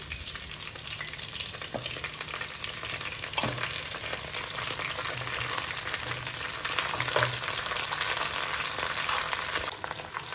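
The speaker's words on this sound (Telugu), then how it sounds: "ఇలా మనం తిప్పుకుంటా బాగా ఆయిల్లో వేయించాలి పుదీనాను." Fresh mint leaves and green chillies fry in hot oil for pudina chutney, a steady loud sizzle with occasional scraping stirs of a spatula against the pan throughout, no voices.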